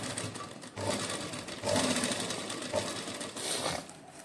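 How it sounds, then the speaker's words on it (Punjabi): A sewing machine runs steadily, stitching beaded lace onto a dupatta with a close, continuous whirring rattle that surges slightly over a few seconds, with no talk. "ਇਹਨੂੰ ਆਪਾਂ ਇਸ ਤਰ੍ਹਾਂ ਉੱਪਰ ਰੱਖ ਕੇ ਇੱਕ ਪੈਰ ਪਾ ਕੇ ਇਹਦੀ ਸਿਲਾਈ ਲਾਵਾਂਗੇ"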